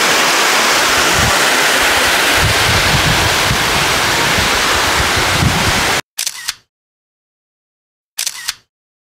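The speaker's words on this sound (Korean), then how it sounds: "밑으로 폭포." A waterfall below the Gujeolsan suspension bridge rushes in a loud, steady roar for about six seconds, then cuts to silence broken by two brief camera-like clicks.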